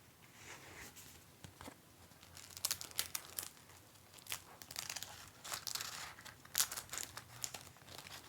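Plastic sleeves crinkle softly during stationery organizing, with irregular, close bursts of rustling and crackling at low volume and no talk.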